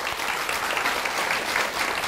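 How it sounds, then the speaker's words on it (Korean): Church congregation applauding together, a steady, dense wash of clapping hands that stays even and loud throughout, with no talk over it. "우리 하나님께 감사의 박수를 드리겠습니다."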